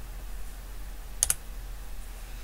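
One computer key is pressed as Enter in Excel, giving a quick double click in an otherwise quiet room with a faint steady hum.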